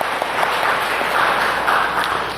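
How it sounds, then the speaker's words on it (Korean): A church congregation at Sunday worship gives a round of applause, a continuous, fairly even patter of many hands clapping at moderate loudness. "영광의 박수를 주님께 돌리십시다"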